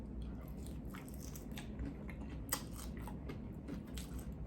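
Shrimp dipped in homemade cocktail sauce is bitten and chewed close up, a quiet run of soft crunches and moist squishy chews with a few sharper bites, no talking.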